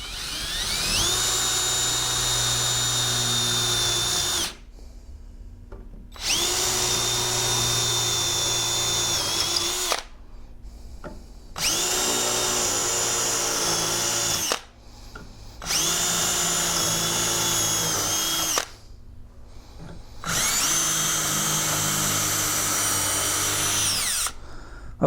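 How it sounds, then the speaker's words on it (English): A power drill whirs loudly in five long bursts, each several seconds long, separated by short pauses. "I will be drilling those holes"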